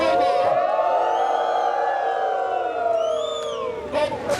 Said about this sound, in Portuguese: Uma vaia para escola sem partido.